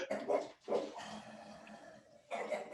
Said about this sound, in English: dog is acting up in the background